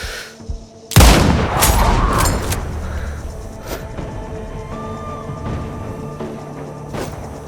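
A sudden loud blast opens into a rattling burst of gunfire in the military shooter Sniper Ghost Warrior Contracts 2, followed by scattered shots and a lingering rumble fading under ambient battlefield noise.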